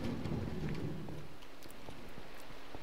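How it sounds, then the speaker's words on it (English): A thunderstorm in Minecraft, with a loud rumble of thunder fading out over the first second, then steady rain with scattered drops pattering on. "Oh, we got a thunderstorm outside."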